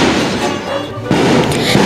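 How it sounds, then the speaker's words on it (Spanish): Rocket fireworks bursting overhead at a village fiesta in San Antonio, a dense, loud crackle of blasts with a sharp fresh volley near the middle, while faint voices can be heard underneath. "Ahí observamos que están recibiendo con todo, con los cohetes."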